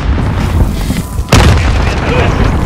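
A cruise missile strike explodes in Call of Duty Modern Warfare multiplayer, one sudden heavy boom that cuts through the ongoing gunfire and battle noise, then rumbles off under a game announcer's voice.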